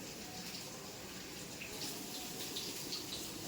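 Heavy rain pours in a dense, unbroken hiss that stays steady and fairly close for the whole stretch, with no voices.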